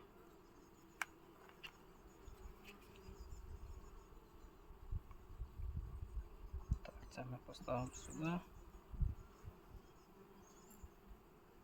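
A faint, low buzzing of honey bees hums throughout, with quiet handling of hive frames and a brief spoken phrase partway through.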